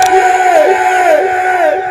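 High, wavering ululation from women at a Tanzanian welcoming ceremony for a bride, several voices trilling together continuously and loudly, with crowd noise underneath.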